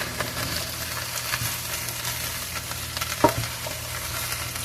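Chicken and vegetables stir-frying in oil, a continuous dense sizzle with scraping stirs and a clack of the utensil against the pan, no voices.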